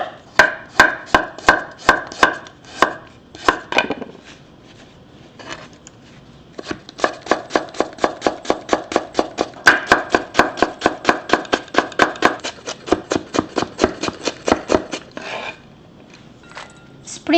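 A kitchen knife slices a vegetable thinly into matchsticks on a board while cooking lunch, giving fast, steady rows of crisp close taps in two long runs with a short pause between.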